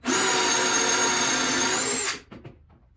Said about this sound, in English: on that first pass I went the full depth of the top of the Forstner bit